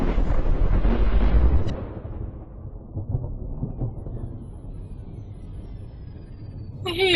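An explosion in the Guild Wars 2 video game: a loud, deep rumbling blast with broad roar that fades into a lingering low rumble, ending with a sharp crackling burst.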